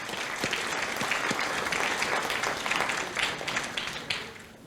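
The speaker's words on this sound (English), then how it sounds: "I think that's worth a round of applause." A crowd applauds steadily and fairly loudly for several seconds, a dense wash of clapping that tapers slightly at the end.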